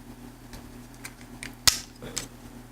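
A GoPro Hero 7 Black is lifted out of its plastic packaging casing. A few soft, close taps lead up to one sharp plastic click and a smaller click after it, all quiet, with no talking.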